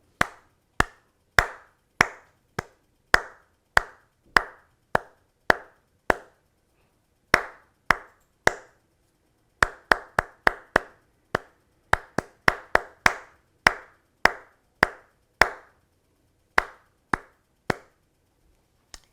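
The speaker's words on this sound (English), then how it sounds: "let's clap it" A pair of hands claps out a music-lesson rhythm of quarter and eighth notes with rests, sharp close claps falling in even beats, then quicker pairs and pauses, with no talking.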